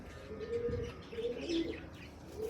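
A large, long-bodied pigeon in a breeding pair coos in low, throaty rolling phrases, close by, with faint chirps from other birds behind and no voices.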